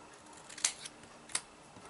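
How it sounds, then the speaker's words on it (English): Two crisp, close snips of scissors cutting punched cardstock pieces in half while making a Halloween spiderweb doily card, evenly spaced against quiet room tone. "Now I'm going to take these punched pieces and I'm going to cut them in half."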